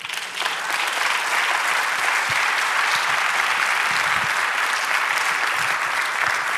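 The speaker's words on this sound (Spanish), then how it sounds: "Dar un aplauso al Señor." A church congregation applauds during a sermon, a dense, sustained burst of clapping from many people that fills the room evenly from start to finish.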